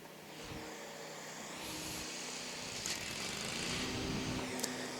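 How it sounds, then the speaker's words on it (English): A lawn mower engine drones steadily at a moderate distance beside a tennis court, a continuous buzzing hum with no talk over it. "it figures they would be mowing the grass right next to us."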